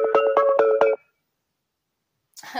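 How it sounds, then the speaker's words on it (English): A mobile phone ringtone plays as a loud, close melodic pattern of about five rhythmic bursts, then cuts off into silence before a brief rustle. "I just said communication and then my phone starts to ring."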